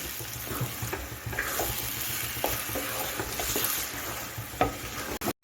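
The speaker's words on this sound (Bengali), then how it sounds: "বেগুনটা দিয়ে দিচ্ছি এখন আমি নেড়ে চেড়ে দশ মিনিট রান্না করে নিচ্ছি" Eggplant sizzles in a hot pan while being stirred, a constant frying hiss broken by periodic scrapes and clacks of the utensil against the pan, close up with no talking, ending in an abrupt cut.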